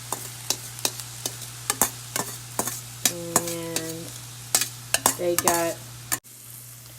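Potatoes and peppers fry in a pan for a vegan tikka masala burger while a utensil stirs them, giving repeated sharp scraping knocks over a soft steady sizzle. A brief word of speech comes near the end.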